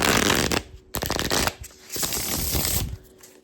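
Tarot cards being shuffled in several quick riffling bursts, crisp flapping and fluttering close up, separated by brief pauses.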